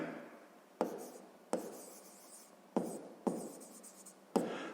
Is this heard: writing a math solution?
yes